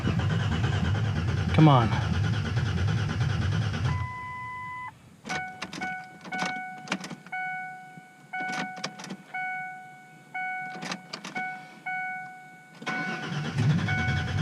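A Ford Ranger pickup with 220,000 miles, its engine cranking in rapid bursts before catching briefly, followed by a long run of dashboard warning chimes in quick beeps, with someone speaking briefly.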